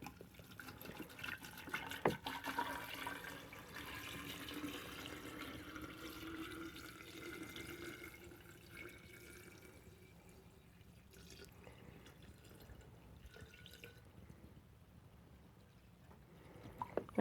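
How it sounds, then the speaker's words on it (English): Filtered water pours into a gallon glass jar in a continuous soft gurgling stream, faint and close, trickling and tapering toward the end. "I'm going to pour this into the gallon glass jar."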